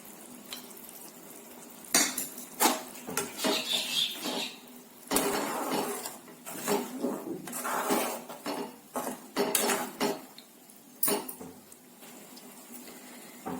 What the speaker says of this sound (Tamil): பொடி போட்டு நல்லா கலந்துட்டு இப்ப மூடி வச்சுக்கலாம்.